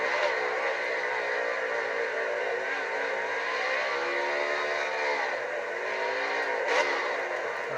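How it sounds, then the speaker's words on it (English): A NASCAR race car in NASCAR Heat 4 does a backwards burnout along pit road at Richmond, its engine holding a steady, loud, high-revving whine with a shifting pitch and no talk over it. "Now let's do our tradition and burn it down backwards on the pit road"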